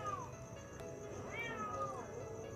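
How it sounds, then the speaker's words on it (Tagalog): A cat meows several times nearby, drawn-out rising and falling cries over a steady background hum, with faint talking underneath. "Ingay ng pusa."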